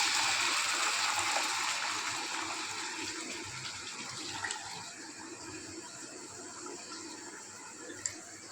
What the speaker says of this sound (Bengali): এবার আমি পরিমাণ মতো এখানে জল অ্যাড করে দেব।